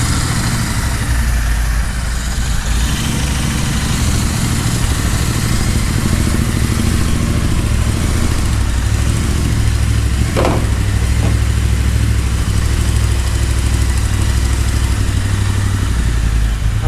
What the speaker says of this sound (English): I'm not sure why the RPM is so unstable. We'll wait for the bike to heat up and see if everything is fine.